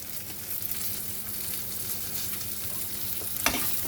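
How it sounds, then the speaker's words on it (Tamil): Cashews and mushroom gravy ingredients stirred in a hot pan, giving a continuous close sizzle and frying hiss with a soft scrape of the spoon near the end. "நல்லா கிண்டி விட்டுப்போம்."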